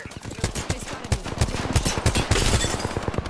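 Rapid automatic gunfire in the shooter game Apex Legends, dense bursts of sharp shots fired close and loud in quick succession, with a voice occasionally speaking beneath the shooting.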